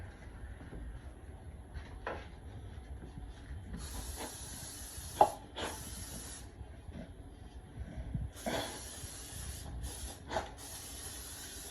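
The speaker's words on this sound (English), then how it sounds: "spray a little bit of vegetable or canola oil on it" Several short bursts of vegetable or canola oil aerosol spray hiss close by into a cake pan, separated by quiet handling clicks and rustles.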